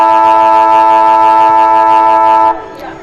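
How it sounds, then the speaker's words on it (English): A long, steady siren blares at a netball grand final, holding a loud, even tone for about two and a half seconds before cutting off abruptly, leaving crowd murmur behind. "That was the longest siren I've heard"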